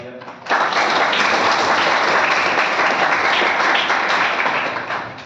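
A college audience at a Women's Day event bursts into loud applause, a dense, sustained wall of clapping that starts abruptly and holds strongly for several seconds before easing slightly.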